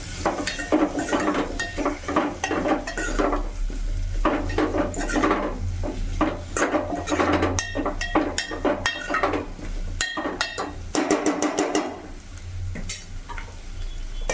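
A spoon scrapes and clatters against a pan while pullaganda pieces are stirred in hot oil, giving repeated rhythmic scraping strokes with a faint sizzle underneath, close and fairly loud.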